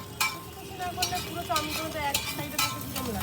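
Egg chowmein being stirred and mixed in a pan, with repeated scraping strokes and a low sizzle underneath, close and moderately quiet.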